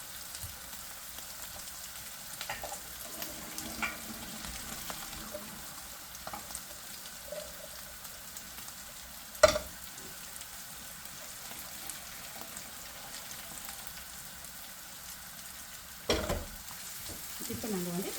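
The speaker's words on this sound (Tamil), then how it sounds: "இந்த வெங்காயம் வந்து நல்லா வதங்கிட்டு" Onions sautéing in a pan for fish biryani, a faint steady sizzle with occasional stirring scrapes and a few sharper clinks near the middle and end.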